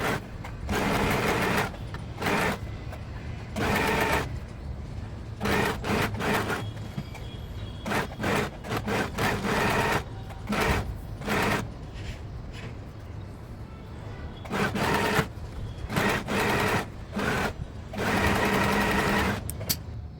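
Sewing machine press-stitching a crop top, running in repeated loud whirring bursts separated by brief pauses, stopping and starting rhythmically throughout.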